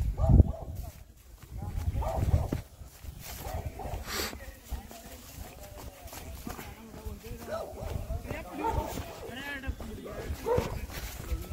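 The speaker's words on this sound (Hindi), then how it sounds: "कुत्ते भौंक रहे हैं" Several dogs bark on a mountain path during a trip with friends, loud bursts early on, then scattered yips and barks further off, with people talking and footsteps throughout.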